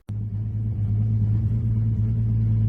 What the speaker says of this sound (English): We've got a DCT swapped Skyline, and it shows the downshifting.